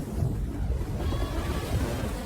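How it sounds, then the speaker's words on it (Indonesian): Ocean waves crash on a deserted island shore over a coral reef: a short burst of deep, rolling surf rumble with broad hiss that swells and washes on, and no voices. "Dan ini adalah ombak kedelapan yang harus dilaluinya."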